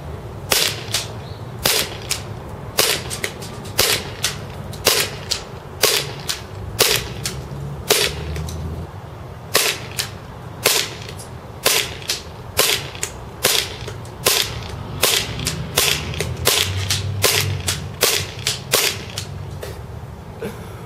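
A KWA CZ75 airsoft pistol fires at a man-sized target 150 feet away during an accuracy test: about thirty sharp, crisp shots in an uneven but steady rhythm, each a quick crack over a low background hum, with no talking.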